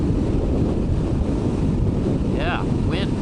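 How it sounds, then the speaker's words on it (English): Strong wind roars and buffets the microphone in a constant low rumble while riding a Kawasaki KLR 650 motorcycle, and a brief high squeal cuts through near the end. "wind intense today."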